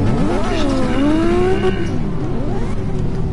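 Car engine in a Formula Drift racing video game revs with rising and falling harmonic whines, squealing tires under the sweeps as the car slides, loud and continuous for a few seconds.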